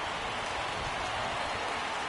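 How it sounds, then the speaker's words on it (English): Steady rain pours down on a baseball field in a video game, a dense even hiss of drops running unbroken and fairly soft throughout, with no voices. "we've mentioned the conditions aren't ideal with the rain coming down"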